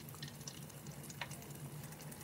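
Curly fries sizzle in hot oil with a faint, steady crackle and scattered pops, quiet and close, with no voices.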